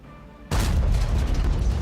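A single heavy cannon blast from a tank destroyer in World of Tanks, booming in abruptly after a quiet engine hum and rolling on with a loud, sustained low rumble.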